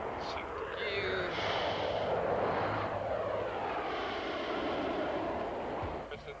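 A Thunderbirds aerobatic team F-16 jet climbs away after takeoff, its engine making a steady, loud, broad roar that swells slightly and holds for several seconds before easing near the end.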